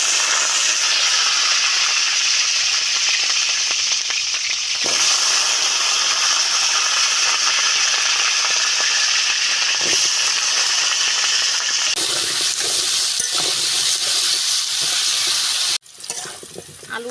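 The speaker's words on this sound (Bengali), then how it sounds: "আলুটা আমার ভাজা হয়ে গেছে" Potatoes sizzle in hot white oil in a heated wok, a steady bright crackling hiss that runs continuously, with brief shifts where the pieces are stirred and a short drop near the end.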